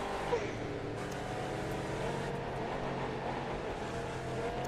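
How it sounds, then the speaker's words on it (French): Cadillac Eldorado drifting on a Route 66 road trip in the racing game The Crew 2, a steady engine rumble with faint tyre noise throughout, moderately quiet and continuous. "Le petit drift qui passe crème"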